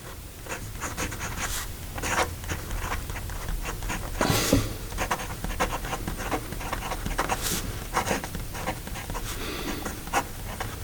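A pen writes a sample in Benu Tattoo gray ink on paper, giving close, soft scratching strokes in uneven bursts with brief pauses between words.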